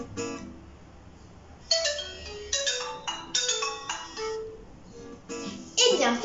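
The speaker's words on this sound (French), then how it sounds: "Vous connaissez sûrement cette très célèbre sonnerie de téléphone." The well-known phone ringtone drawn from Tárrega's Gran Vals plays as a short bright melodic phrase, repeated in bursts with gaps, fairly clear and loud, a voice briefly speaking near the end.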